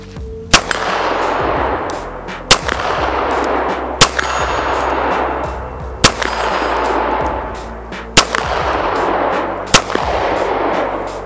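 Dan Wesson Specialist 1911 pistol fired at a steel target from about 40 yards, six evenly spaced sharp shots roughly two seconds apart, each with a bright metallic clang ringing out over steady background noise.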